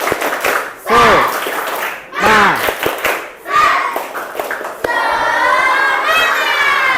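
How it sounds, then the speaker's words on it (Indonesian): A school class performs a rhythmic spirit clap, a Tepuk Semangat, in short bursts of many hands clapping together. Shouted chanting between the bursts is followed by a sustained group vocal toward the end. "Oke, sekali lagi. Tepuk semangat."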